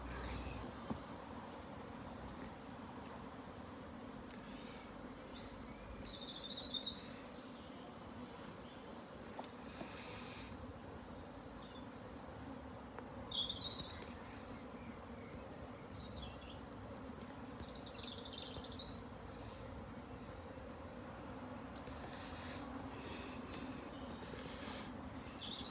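Honey bees buzz around a hive outdoors, a continuous low hum close by with a few louder passes, over faint wind and a few brief, distant bird chirps.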